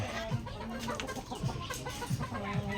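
A hen in a small backyard poultry yard gives soft, repeated low clucks at a steady pace, fairly quiet with faint background noise.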